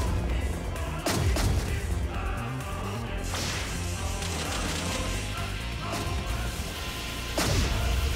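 Repeated loud booming explosions in the Fashion Police Squad video game crash over a constant dense wash of game noise, with several strong hits spaced a few seconds apart.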